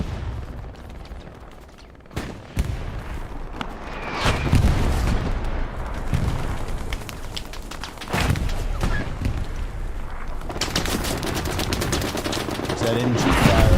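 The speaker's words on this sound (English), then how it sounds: "That MG fire." Gunfire rattles through a Hell Let Loose match, with dense bursts of machine gun fire, sharp individual shots and heavy booms overlapping at varying distances, while a commentator talks over the battle.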